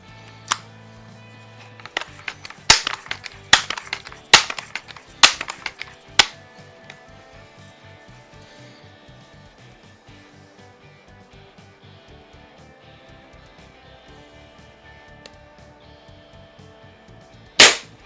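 A Daisy 880 .177 multi-pump pellet rifle fired while plinking, a series of sharp snapping shots spaced a second or so apart early on, with faint clicks and handling noise between, then one more crack at the end.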